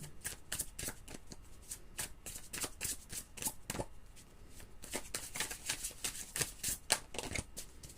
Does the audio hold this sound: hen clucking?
no